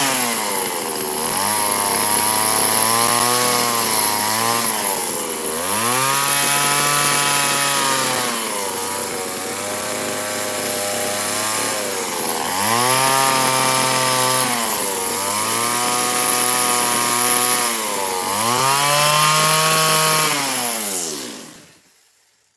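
A chainsaw carving a wooden bear runs loud and close, its engine rising and falling through repeated revving bursts as the cut bites in, then the saw cuts off at the end.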